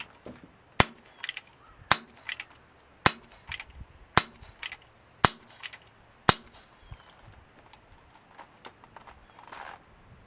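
Umarex NRA Edition Colt Peacemaker air pistol firing lead wadcutter pellets one-handed, six sharp cracks spaced about a second apart, each followed by a faint metallic click, with quiet handling noise between.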